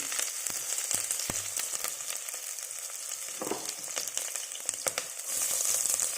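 Sliced onions and green chillies sizzle and crackle in hot oil in a pan for spinach rice, a steady bright frying hiss with occasional stirring clicks, close and with no talk.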